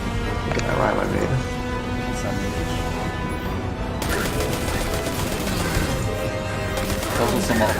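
Bursts of rapid gunfire in a first-person shooter video game crackle continuously, with people talking over the shooting throughout.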